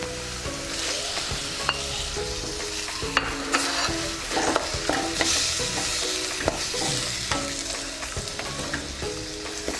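Tomatoes stirred into frying onions and garlic paste for a cauliflower kurma, with a loud, close sizzle and repeated scraping and clinking of a spoon against the pan throughout.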